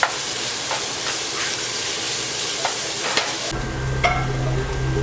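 Crushed ginger stirred and fried in a pan for kozhiyada chicken filling, a steady broadband sizzle with a few scraping stir knocks, dropping to a softer hiss with a low hum near the end.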